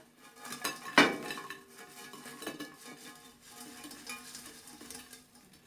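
A chicken dish is taken off the stove and poured from a pan onto a plate, with a sharp metal clink of utensils and pan, then soft scraping and faint sizzling, fairly quiet.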